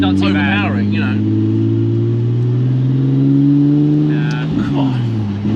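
A Ford F100 pickup with a swapped twin-turbo Nissan 370Z engine holds a steady, deep exhaust drone whose pitch slowly climbs and settles, loud and close, with brief higher sounds at the start and near the end.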